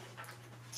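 A puppy pants in quick, soft breaths, close and quiet over a steady low hum.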